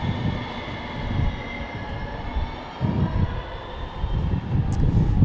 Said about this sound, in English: Alaska taking off.